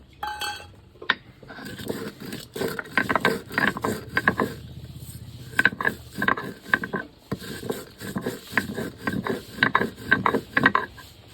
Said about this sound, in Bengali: পুনরায় বেটে নেব